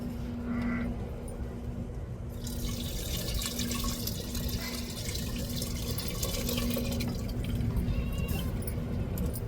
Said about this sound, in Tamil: இப்போ நம்ம காய்ச்சின பாலை சேர்த்துக்கிறோம்